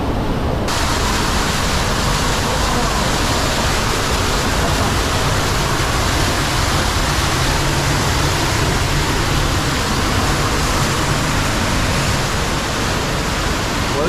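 Water pours steadily in an underground cave waterfall fed from a backyard stream. The roar is loud, close and continuous and fills the whole space, with no break or change in level.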